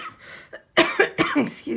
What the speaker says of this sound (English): Got the coughing going on.